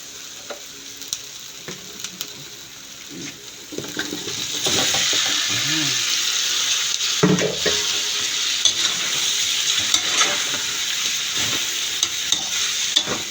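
Marinated chicken mechado ingredients dropped into a pan with tomato paste, sizzling loudly and steadily up close while a spoon stirs and scrapes.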